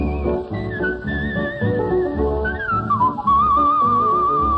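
A man whistling a melodic western tune with a band, a clear sliding whistle line carried over a full band accompaniment on an old radio recording.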